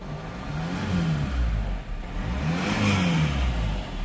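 A Mercedes W211 engine revs up twice, its pitch rising and falling in two sustained swells with a brief dip between, close and steady.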